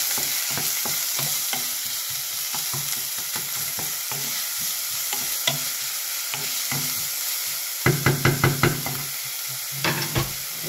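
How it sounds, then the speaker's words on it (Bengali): Chopped white onions frying in a pan give off a steady broadband sizzle throughout, with a run of sharp stirring scrapes and clacks toward the end; no one talks. "এরপর আমরা পেঁয়াজগুলো দিয়ে দেবো ভাজার জন্য।"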